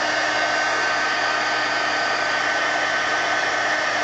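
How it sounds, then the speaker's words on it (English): A heat gun blows steadily over wet paint on an art journal page, a loud, even, unbroken close whoosh with no change in pitch. "Let me hit it with the heat gun though, because that is paint."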